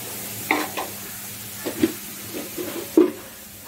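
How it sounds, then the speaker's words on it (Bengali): Radish greens fry with a little turmeric in a pan under a steady hiss of sizzling oil, broken by several distinct scraping stirs of a spatula, close and fairly loud, with no talking. "এটাকে একটু ভাজা ভাজা করে নেব, এর মধ্যে দিয়ে দিব সামান্য পরিমাণে হলুদ"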